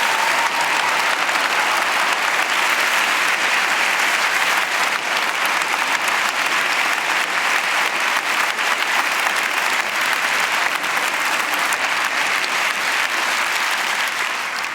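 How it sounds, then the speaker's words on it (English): Steady, loud applause from a large crowd for the Prix de Lausanne 2017 ballet finalists fills the whole stretch, dense clapping with no pauses. "ask you to give a warm round of applause to the 2017 finalists"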